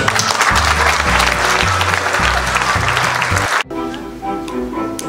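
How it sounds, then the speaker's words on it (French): Dense audience applause at an awards ceremony fills the space loudly, then cuts abruptly to quieter background music near the end. "on peut l'applaudir très fort"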